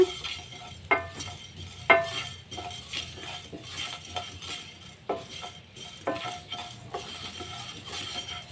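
Curry leaves and spices roast in a pan for a chayote buttermilk curry, a quiet sizzle broken by metal spoon clinks and scrapes about once a second.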